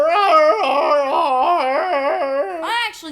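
Splatoon title screen music from the video game on Wii U, a wavering, warbling melody that swoops up and down like a dog howling, loud and steady throughout with no talk.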